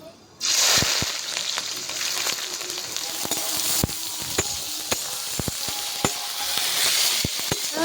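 Bay leaves, dry red chillies, whole cardamom, panch phoron and chopped onion hit hot oil with a sudden loud sizzle that stays steady, punctuated by spatula taps and clinks on the pan, close up.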